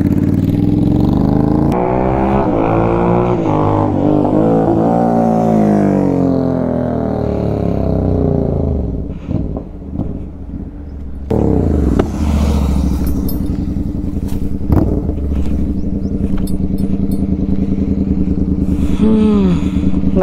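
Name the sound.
motorcycle with Stage 2 performance air filter riding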